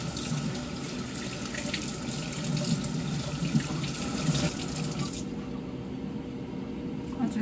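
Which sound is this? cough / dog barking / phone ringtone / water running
water running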